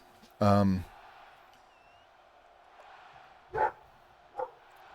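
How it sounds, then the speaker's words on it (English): Dogs barking indoors, one loud close bark followed by two shorter, quieter barks a few seconds later, with low background hum between them. "my fucking dogs"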